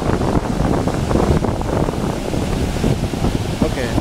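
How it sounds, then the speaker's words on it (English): Huge ocean waves crash on the shore in a loud, continuous roar, with strong wind buffeting the microphone throughout. "Here's some huge waves coming in."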